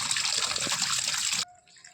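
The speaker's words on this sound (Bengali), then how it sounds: "তো এখন ডাল ধুচ্ছি" Water pours and splashes steadily while lentils (dal) are washed by hand at a sink. The close, continuous rush cuts off abruptly after about a second and a half, leaving near quiet.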